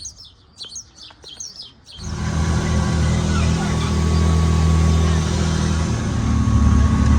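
Turbocharged off-road buggy engines in Lanzarote start up loudly after a couple of seconds of birdsong, then settle into a steady, close, rumbling idle that swells slightly toward the end.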